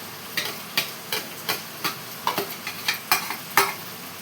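Tomatoes hit a vegetable curry frying in a pan, where a loud steady sizzle runs under a rapid, rhythmic series of about a dozen sharp spoon scrapes and taps, close up and without any talking.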